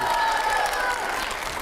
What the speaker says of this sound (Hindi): इसके लिए जोरदार तालियां हो जाए